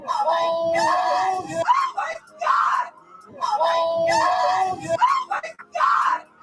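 A woman screams repeatedly in short, loud, high-pitched bursts from played-back footage, the cries separated by brief gaps.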